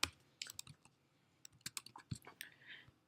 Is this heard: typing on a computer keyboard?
yes